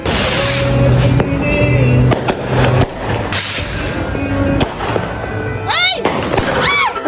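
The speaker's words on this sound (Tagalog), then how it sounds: "Narinig ko nga si Jonyo na nagpapaputok kaya lumabas ako." Firecrackers crackle and bang through steady background noise, with a few whistling rockets streaking up near the end.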